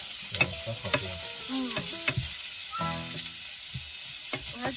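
Ingredients stir-fried in a pan on a camper-van stove, with steady sizzling and a run of quick scraping stirs that repeat through the stretch at close range.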